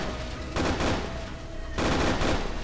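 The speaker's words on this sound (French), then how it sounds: "Minimi, tu rebalances quelques rafales en direction de la dernière menace." Bursts of Minimi machine gun fire in the military simulation game ArmA 3, two loud sustained volleys of rapid shots separated by a quieter stretch of continuing fire, with no voices.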